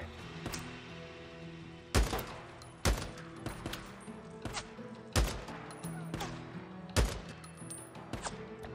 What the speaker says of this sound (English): A sniper shot and he's still okay.